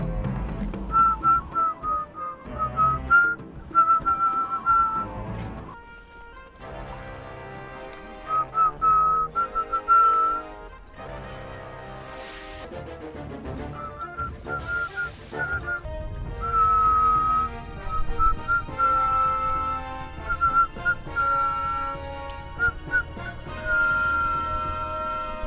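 A person whistles a melodic tune during a Star Fox Adventures speedrun, in clear, sustained notes with short pauses between phrases over quieter game sounds for about twenty-five seconds.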